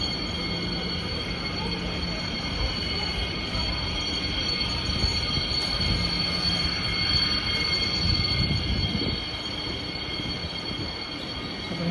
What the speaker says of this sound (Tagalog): Pasakay na po kami ng train dito po